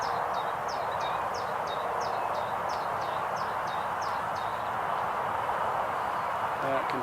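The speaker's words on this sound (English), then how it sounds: "I can hear the birds, but I have no idea where they are." Birds sing on Portsdown Hill in a quick run of high, repeated chirps over steady wind noise and outdoor rumble, then fall silent for the rest of the moment.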